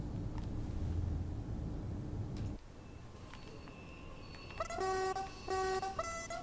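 Electric multiple-unit train horn on a DB class 442 near Coswig on the Leipzig–Dresden line: a few short, whistly two-tone toots near the end, preceded by low rumbling train noise and faint clicks.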